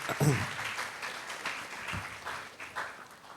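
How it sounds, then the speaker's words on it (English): An audience claps during a talk about shopping habits and the planet, moderate and fairly steady, with a speaker's voice sounding over the applause. "you can clap if you want"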